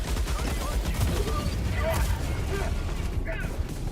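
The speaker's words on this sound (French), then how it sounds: "Mais en fait, c'est la tourelle qui m'attaquait." A turret in the video game Helldivers II lets off dense, continuous gunfire, a steady crackling barrage with scattered sharper hits and no break for four seconds.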